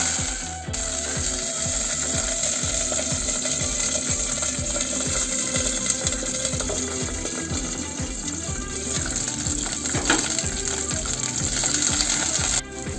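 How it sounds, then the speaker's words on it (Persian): Green plums sizzling as they fry briefly in oil in a pan for a plum stew, a steady dense crackle with faint clinking, continuous and fairly loud throughout. "اینجا دوباره میام یکم روغن به تاوم اضافه میکنم و گوجه سبزامو داخل روغن یکم پخت میکنم"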